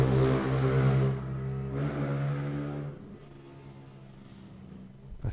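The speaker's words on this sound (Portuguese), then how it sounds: "Senhor abençoe que troque uma moto mais nova, escapamento silencioso, né?" Motorcycle with a loud exhaust passing by, a strong droning engine tone that swells and then fades as it moves away.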